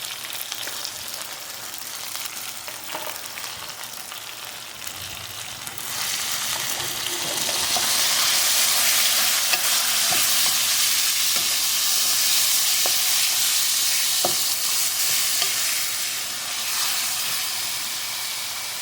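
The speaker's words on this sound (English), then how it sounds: "Stir fry kind of implies we stir and we fry." Chicken and broccoli in a stir fry sizzle and hiss loudly and steadily in a hot pan, the frying growing stronger partway through, with occasional scraping taps from stirring.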